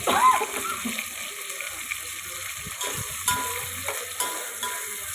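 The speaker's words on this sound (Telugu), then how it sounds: "అలా కలుపుతూనే ఫ్రై చేసుకోవాలి వంకాయలని" Eggplant fries in a pan with a steady sizzle while a spoon stirs it, scraping and clinking against the metal in irregular knocks, up close.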